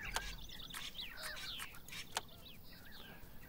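Birds in Farm Manager 2018, a faint farmyard mix of chirps, clucks and short calls scattered irregularly over low background ambience.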